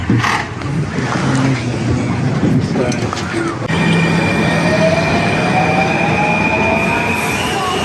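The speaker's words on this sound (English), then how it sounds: "There goes the metro." A Washington D.C. Metro train rolls past, a sustained rumble with squealing wheels and a high rising whine, heard from nearby over some talking.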